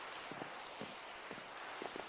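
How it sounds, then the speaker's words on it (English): Rain falls steadily in a colony-building video game, a soft continuous hiss with faint scattered drop taps, quiet and even throughout. "Of course it rains"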